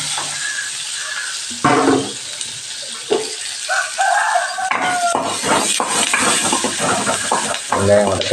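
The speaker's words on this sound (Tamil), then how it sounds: "கருவாடுக்கு வெங்காயம் வதக்கிட்டு தக்காளி." Onions are sautéed in a pan for a dried-fish curry, giving a soft sizzle with scraping stirs and clinks of a utensil against the pan. The sound is close, and a voice talks over it at times.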